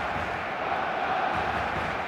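A steady, distant wash of stadium crowd noise in the football video game eFootball, a constant murmur of many voices without clear cheers or peaks.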